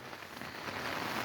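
Steady rain patters on a tent at Heacham Beach, a dense, even hiss of drops heard close from inside with no voices.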